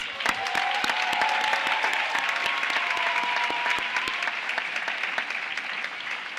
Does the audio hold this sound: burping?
no